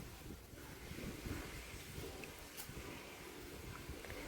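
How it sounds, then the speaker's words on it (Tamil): Wind blows outdoors in a garden as a steady, faint rushing and buffeting against the microphone, with no other clear sounds. "இங்கே காற்று வேற அடிச்சிட்டே இருந்ததுங்க."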